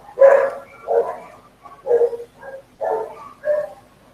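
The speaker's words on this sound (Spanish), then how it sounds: "Perdón el ruido, pero llegó alguien y llegó mi abuela y los perros ladran, son muchos" Several dogs bark in a group, five loud bursts of overlapping barks and yips spaced about half a second apart, close by and with no talk over them.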